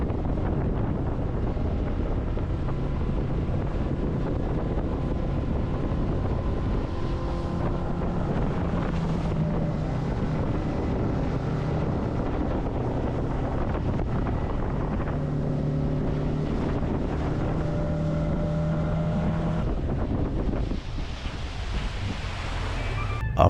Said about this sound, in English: After our 15-minute speedboat ride